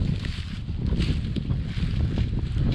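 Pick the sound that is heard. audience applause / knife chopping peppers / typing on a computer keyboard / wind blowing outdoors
wind blowing outdoors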